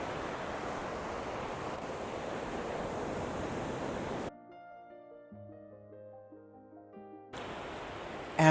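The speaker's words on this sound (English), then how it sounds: "After about a half an hour of listening to surf, I think Taylor had had enough." Ocean surf on the New England seacoast gives a broad, steady wash of waves for several seconds, then cuts away to a quiet musical interlude before the surf roar returns near the end.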